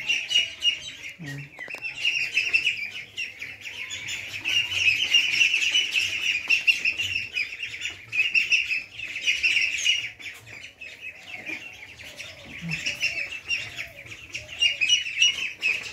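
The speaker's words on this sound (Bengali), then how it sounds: "হাঁস দেখতে অনেকটা সুন্দর, তোমার শব্দ করতেছে" Peking ducks in an indoor farm shed keep up a dense, steady chorus of high calls, busy and close, with fans and netting around them.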